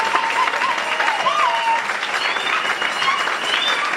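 A church congregation at a women's convention in Liège, Belgium, claps and cheers: loud, continuous applause with scattered whistles and shouts rising above the clapping throughout.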